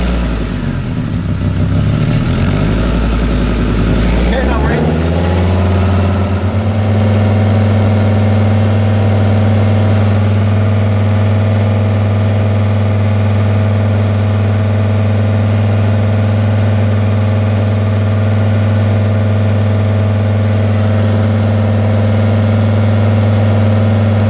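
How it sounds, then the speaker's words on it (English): A car engine with an exhaust leak just before the catalytic converter cranks and catches, briefly revs, then settles into a steady, loud, close idle that drones on without talk. "Brian, start it up"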